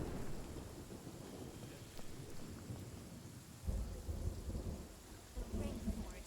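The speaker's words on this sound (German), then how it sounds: "ich finde es cool, dass jetzt Gewittersounds dazu kommen" Thunderstorm in the video game Genshin Impact: steady rain hisses throughout, and a deep rolling thunder rumble swells up past the midpoint and lingers to the end, with no talking.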